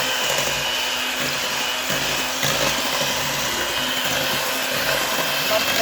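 Pumpkin bread batter being mixed with an electric mixer, a steady loud whirring drone running unbroken throughout with slight fluctuations in pitch.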